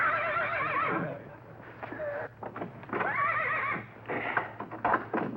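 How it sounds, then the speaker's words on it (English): A horse neighs and whinnies in a 1953 sitcom scene, several loud drawn-out calls with short pauses between them, close and clear with no talk over them. "Mr. Albright, the horse has taken such a liking for you, I'm afraid he'll disturb Margie unless we let him come in."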